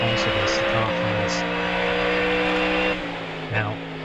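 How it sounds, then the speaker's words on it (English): The supercharged V8 of a Ford Mustang GT3 race car in iRacing drones at steady high revs with a shifting tone, one gear change near the end, and a voice talking over it. "we just also have to take a moment to listen to that lovely supercharged V8 here"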